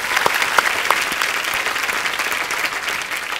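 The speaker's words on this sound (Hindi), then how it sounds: "इनके लिए पहले तो जोरदार तालियां हो जाए" Loud, steady applause from a TV comedy show studio audience fills the whole stretch, with a few sharper claps standing out near the start.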